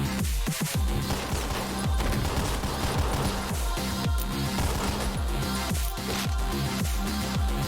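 Dense, relentless gunfire from enemy guns and a pistol in the video game OTXO, rapid overlapping shots forming a loud, continuous barrage throughout.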